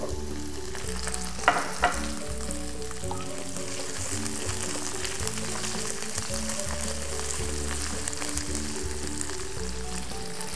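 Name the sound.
onion frying and being stirred in a pan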